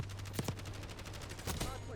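Rapid bursts of Kilo rifle fire in the shooter Call of Duty: Modern Warfare II, a quick run of sharp shots, then a pause and a second short burst over a steady low background hum.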